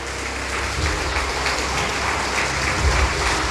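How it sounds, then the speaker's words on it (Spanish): A church congregation applauding, a steady dense wash of many hands clapping together, filling the room without a break. "Aplauda fuerte al Eterno."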